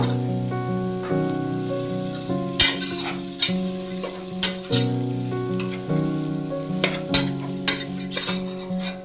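Green beans frying in hot oil in a pan for coconut rice, giving a steady close sizzle broken by occasional sharp crackles and spatters, with no talking.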